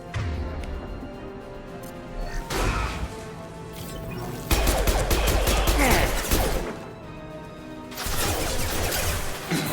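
Gunfire and impact bursts in Mass Effect 2 sci-fi shooter combat, loud repeated crashes and volleys over a dense game score, with heavier barrages in the middle and near the end.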